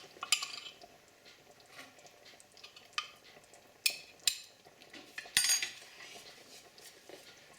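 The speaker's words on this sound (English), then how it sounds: "Stirring as we go." A spoon stirs a pot of beef stew, clinking against the metal in a few sharp, close strikes. Soft scraping and quiet simmering run between the knocks.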